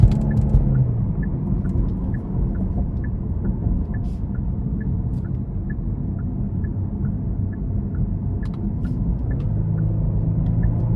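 A 2024 Genesis G80 Sport Prestige with a 3.5-litre twin-turbo V6 cruises in Sport Plus mode, giving a low, steady engine and road rumble heard from inside the cabin, with soft ticking throughout and no speech.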